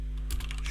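Quick keystrokes tap on a computer keyboard while text is entered into a Commodore 64 program, a short burst of several close, soft clicks over a low steady hum.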